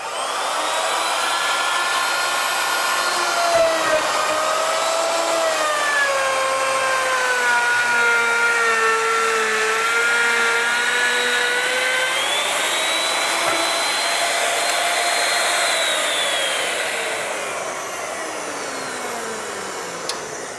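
A plunge router on a panel saw and router combo machine whines loudly and steadily while cutting a stop dado into a panel, its pitch rising and falling slightly with the load.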